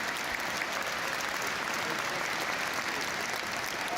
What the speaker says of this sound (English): The minute's applause was a really nice touch, especially as the Ipswich fans joined in as well.